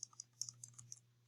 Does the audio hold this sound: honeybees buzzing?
no